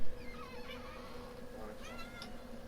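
A pet cat meows close by in a drawn-out, wavering series of cries over a steady background hum.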